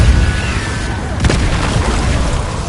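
The Pulsar spell being cast in the Hogwarts Legacy video game, a loud, dense magical whoosh with a sharp burst midway over continuous game sound, no talk.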